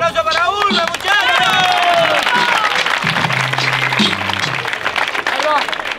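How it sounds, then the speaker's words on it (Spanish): Audience applause and cheering ring out for a freestyle rapper at an F-NIX 1vs1 rap battle, loud and sustained crowd clapping with shouts, while a host's voice carries over it. "Un aplauso para Ulma"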